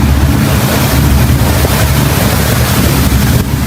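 A boat moves along a winding creek in the Niger Delta waterways between Bayelsa and Rivers State, a steady loud engine drone mixed with water wash and wind buffeting, continuous throughout with no speech.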